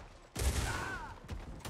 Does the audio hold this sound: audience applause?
no